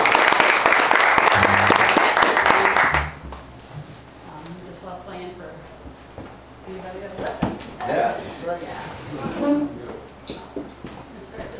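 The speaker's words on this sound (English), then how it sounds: "Give Wanda Lowe and Tim Evans a round of applause." Brief applause from a small audience at Bob's greets performers, loud for about three seconds and then cut short, followed by quieter room noise and scattered talking.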